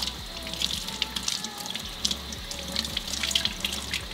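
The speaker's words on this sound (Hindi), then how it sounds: "सो सब तो पहला गोभी को अच्छी तरह धो लें।" Cauliflower is washed under a running kitchen tap, with steady splashing water and intermittent clatter from the sink that stays continuous and fairly close throughout.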